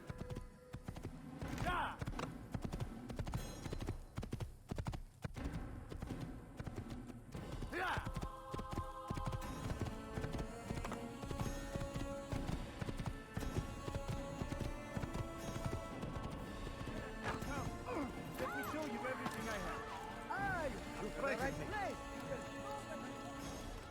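Rhythmic horse hooves clip-clop steadily throughout in the video game Assassin's Creed, close and clear, over a low hum with music-like tones and a brief whinny, while a voice talks intermittently.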